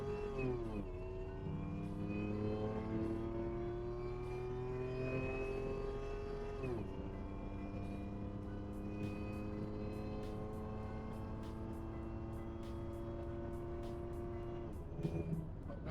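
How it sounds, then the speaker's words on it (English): A supercharged 5VZ Toyota Tacoma pulls hard from a dead stop toward 95 mph, its engine climbing steadily in pitch through each gear with sharp drops at the shifts, loud and continuous from inside the cab. "Up to about 95 miles an hour. Goes through all the gears real good."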